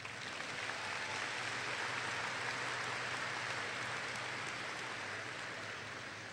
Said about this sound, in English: Wow, that deserves a round of applause there.